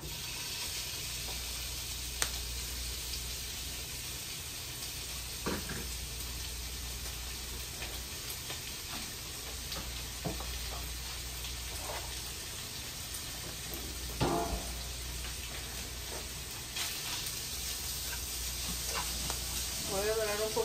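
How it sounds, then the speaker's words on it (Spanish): Bacon browning in a pot, in a pan of garlic and chiles güeros for a lentil soup, gives off a steady close sizzle and crackle, with occasional clicks and scrapes of stirring throughout. "Voy a dorar un poquito el bacon, el tocino."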